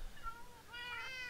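Cat meowing in the video game Minecraft: one faint, short, rising and falling meow near the end, heard alone over a quiet background.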